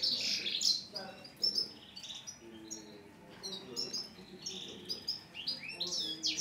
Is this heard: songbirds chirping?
yes